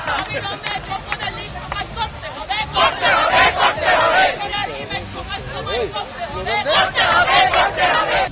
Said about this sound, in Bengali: মিছিলে ফিরে এলো উই ওয়ান্ট জাস্টিস স্লোগান